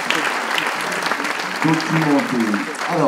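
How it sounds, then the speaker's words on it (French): A conference audience applauds after an introduction at a tourism round-table event: a steady, dense wash of clapping fills the room while a voice begins speaking over it. "on peut l'applaudir pour cette belle introduction"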